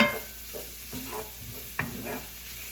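Meat cooking in a big skillet for fried rice gives a soft, low sizzle broken by a few light stirring scrapes, with one sharper clink near the end and no voices.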